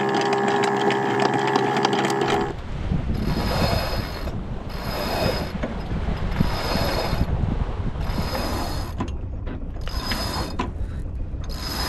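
A sailboat's anchor is hauled up with a windlass, giving a loud mechanical clatter of ratcheting pawls and chain working through gears. The pulls come in repeated rhythmic bursts up close after a brief different sound at the start.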